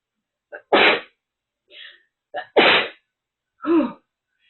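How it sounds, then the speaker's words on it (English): Two sneezes in quick succession, each with a sharp intake of breath before the loud burst, close up with nothing else around. "so I'm going to sneeze."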